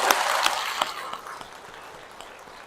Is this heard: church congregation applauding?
yes